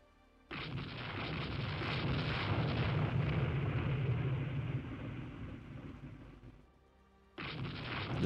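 Torpedo hits exploding on warships in the naval strategy game Rule the Waves II, a long rumbling boom that swells and fades, then another blast begins, with no talk.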